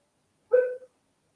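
A single short, muffled bark or yelp from a wet dog indoors, close and brief, surrounded by silence.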